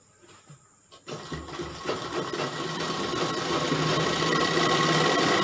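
Sewing machine stitching a kali gown, starting after a quiet moment and building into a steady, continuous close whirr of the running machine.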